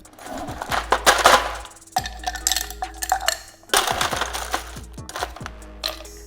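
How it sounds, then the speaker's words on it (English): A cocktail shaker packed with ice is shaken hard in bursts, rattling and clattering loudly up close, with brief pauses between rounds. "This is shaker anyway."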